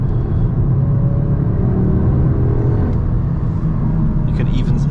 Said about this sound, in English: You can even hear the blow off of the turbo